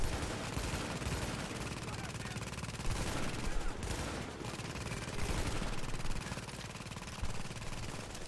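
Sustained gunfire in Tom Clancy's The Division on PS4, a dense, continuous rattle of rapid shots from several weapons layered into a loud, unbroken firefight with a few heavier bursts.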